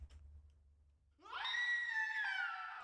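After a second of low rumbling, a drawn-out, warped scream sample in trailer music made in LMMS rises and holds with a harsh, twisted, processed tone, fading slightly at the end.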